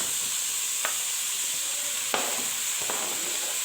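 Onions tipped into a pot where chunks of meat are already browning for kebab, giving a steady broadband sizzle with a few sharp clicks and scrapes spaced through it, close and with no voices.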